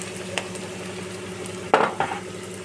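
Onions sizzling gently in a pan for chicken with chickpeas, a soft steady frying hiss broken by a clink and two louder scraping stirs of a utensil toward the end.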